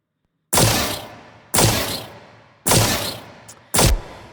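Four heavy, punchy gunshot blasts from the Overwatch 2 hero Hazard's redesigned weapon, loud and close with boomy low end and a hissing air tail, fired at roughly one-second intervals, the last one shorter and sharper.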